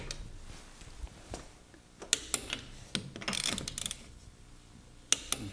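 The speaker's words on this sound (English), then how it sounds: "Now I'll use Anpuds to torque this wheel, same thing, star pattern, 80 foot-pounds" An ANPUDS torque wrench tightens wheel lug nuts to 80 foot-pounds in a star pattern, giving scattered close ratchet clicks and a few sharp metallic clacks spaced apart, with no talk.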